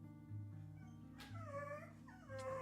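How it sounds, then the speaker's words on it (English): A needy dog at home whimpers and gives high yips, the cries rising and falling in short bursts. They sound close but quiet. "Dog is going to make some noise."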